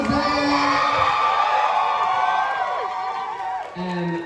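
An audience of people at a critique session cheers and shouts loudly, with overlapping whoops and voices sustained, then thinning toward the end.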